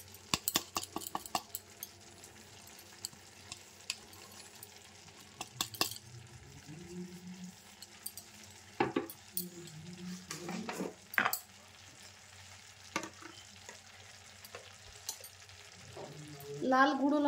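Amla pickle being stirred with ground spices and red chilli powder in a pan, giving scattered scraping and clinking strokes with soft sizzling between them, fairly quiet, no talking.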